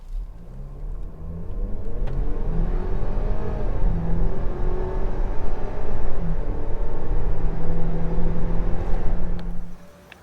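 A 2020 Ford Escape Titanium with the EcoBoost engine pulls hard from a standstill toward 60 mph, its steady engine drone rising through the run and fading near the end, heard alone with no talking.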